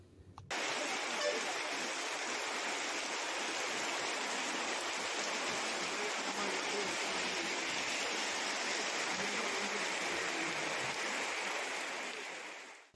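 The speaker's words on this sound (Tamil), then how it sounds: "கோவை நொய்யல் ஆற்றின் சித்திரை சாவடி தடுப்பணையில் வெள்ள நீர் கரைபுரண்டு ஓடுகிறது" Flood water rushing over the Chithirai Chavadi check dam on the Noyyal river in Coimbatore after heavy monsoon rain, a dense, unbroken roar that holds steady throughout and fades at the very end.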